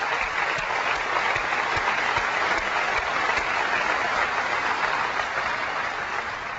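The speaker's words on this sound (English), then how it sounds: "David and all of his colleagues at NVIDIA a round of applause for the GeForce 3." A keynote audience at Macworld 2001 applauds NVIDIA's GeForce 3, a broad, sustained wash of clapping from a large hall that holds steady throughout.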